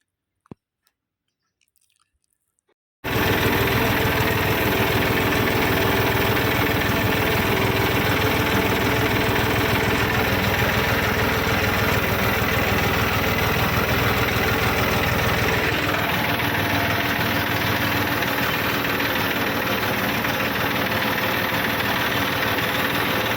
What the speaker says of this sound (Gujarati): અંધારામાં હાલે છે ટ્રેક્ટર આવી રીતે